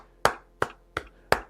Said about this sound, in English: We'll give you a few claps.